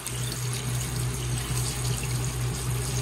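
Water drains and trickles steadily from rinsed zucchini sitting in a colander, a constant close splashing flow with no talking.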